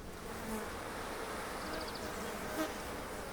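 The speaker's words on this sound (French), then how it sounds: "Quelqu'un pourrait voir que ce sont des abeilles noires" A steady, dense buzzing of many black bees in Sicily fills the air, continuous and close, with a few individual insects droning past.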